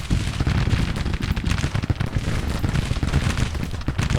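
Musket volleys and artillery fire from a Civil War battle in Grand Tactician crackle and thud densely and continuously, a loud barrage of overlapping shots and booms with no pause.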